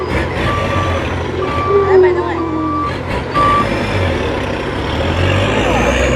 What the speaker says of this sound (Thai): อันนี้รถหกล้อก็มาแล้วมาเทดิน